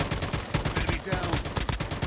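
Rapid gunfire in a Call of Duty battle royale match: loud, close bursts of shots repeat in a fast, uneven rhythm across the whole stretch.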